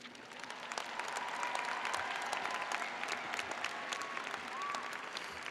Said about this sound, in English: Let's give a round of applause once again to all of our graduates.